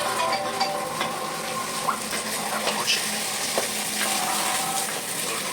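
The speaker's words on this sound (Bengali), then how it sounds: "ফুলকপি গাজর ভাজা হচ্ছে" Cauliflower and carrot fry in a pan with a steady, fairly loud sizzle, with occasional stirring clinks and light scrapes over the continuous crackle.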